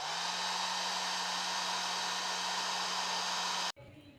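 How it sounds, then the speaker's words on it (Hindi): A grinder machine runs with a steady, loud motor whine and a constant hum, holding even for nearly four seconds before cutting off abruptly, leaving only faint room noise. "इस सवाल का जवाब है ग्राइंडर मशीन।"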